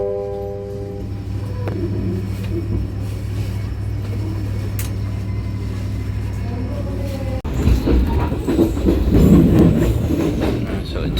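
An Indonesian commuter train runs on rails between Sidoarjo and Bojonegoro, a steady droning rumble with faint wheel squeal, then louder clattering rail noise as the sound opens up, with some voices faintly in the mix.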